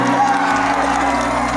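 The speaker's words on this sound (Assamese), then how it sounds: "এতিয়া গোটেই ডেকাসকলে এবাৰ দিব লাগে হাত চাপৰিটো" A crowd of young men at a live stage show in Assam claps and cheers, a dense, steady roar of applause and shouts that fills the whole stretch over faint music.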